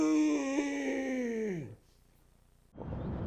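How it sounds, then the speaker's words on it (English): The End's dying groan in Metal Gear Solid 3: a long, drawn-out elderly wail that slides downward and fades away, followed by a pause and then a low rushing noise. "If the End dies in the woods and no one's around to hear it, does he make a sound? Yes, he does, and it sounds like this."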